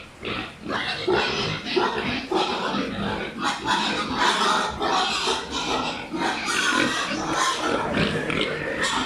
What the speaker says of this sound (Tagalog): atin na pong papakainin ang ating mga alagang baboy